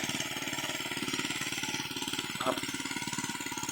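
The engine of a walk-behind plowing machine working a field chugs in a fast, steady pulsing rhythm, loud and close throughout with no talk over it.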